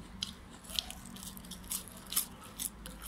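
Someone bites into crunchy hot fried chicken wings during a mukbang, a few sharp crisp crunches with chewing between them, close to the mic and without talk.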